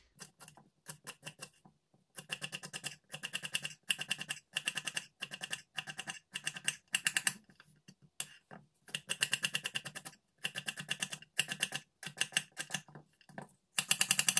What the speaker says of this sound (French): La rhubarbe est épluchée, on va les couper en petits morceaux.